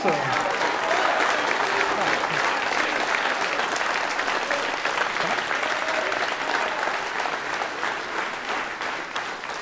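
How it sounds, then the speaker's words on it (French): A campaign rally crowd gives a thunderous round of applause for a local party official, sustained heavy clapping from a packed hall that stays loud throughout, with faint voices mixed in. "Je vous demande un tonnerre d'applaudissements pour Patrick Androlus"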